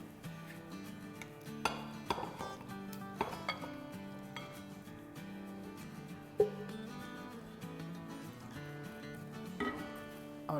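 Food is scooped out of a kadhai with a metal spoon, giving scattered clinks and scrapes against the pan over a low steady background, with a few sharper knocks.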